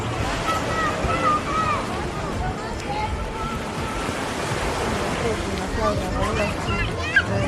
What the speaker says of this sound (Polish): To ta piękna plaża